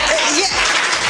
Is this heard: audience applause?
yes